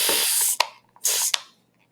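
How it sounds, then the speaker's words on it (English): Two short broadband hisses from a hand spray bottle misting a corner of a mold during comic book cover leaf casting, each burst about half a second with a brief pause between, close and alone. "let's go ahead and we'll spray this corner"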